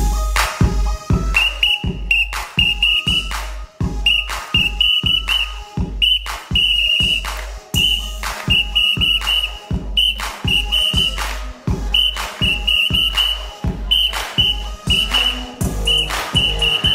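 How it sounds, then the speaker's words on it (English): A woman at a club blows a whistle over loud thumping dance music, sounding short, shrill, steady blasts in a repeating rhythm that keeps time with the beat throughout. "you running all the men off with that doggone whistle"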